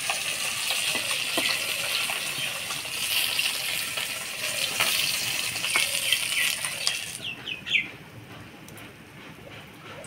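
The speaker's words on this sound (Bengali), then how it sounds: "মাছগুলো ভেজে নিলাম, এবার নামাই নেব।" Koi fish frying in a pan, a steady crackling sizzle of hot oil with scattered pops and spatters, close and fairly loud, thinning out suddenly near the end as the frying quietens.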